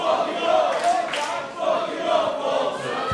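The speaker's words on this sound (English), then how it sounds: "Slightly bloodthirsty element of this crowd, egging Walter on to inflict more damage to Mark Davis." Wrestling crowd at a live independent match, Walter versus Mark Davis, shouting and cheering in a steady roar, with a few louder yells swelling from the mass of voices.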